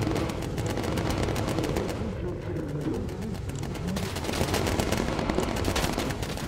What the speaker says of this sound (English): They're very dangerous, they've got 30mm cannons.